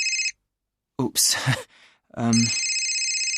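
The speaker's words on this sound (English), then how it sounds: "That's my phone." A mobile phone rings close by in a short electronic chirping pattern, stops, and then a person's voice breaks in before the ring starts again.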